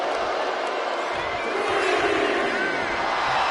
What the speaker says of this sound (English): And Lyra Valkyria is revving this crowd up.